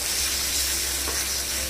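Egg pulusu curry simmering and frying in oil, a dense, steady close sizzle that holds evenly throughout with a faint stir partway, no speech.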